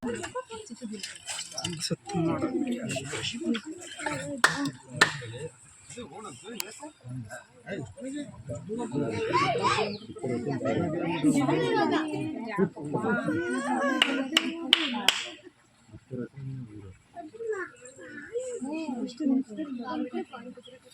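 People clap their hands at the Chappale Kola pond amid steady chatter, with sharp claps scattered through the crowd noise and a few bursts clustered together, close and moderately loud.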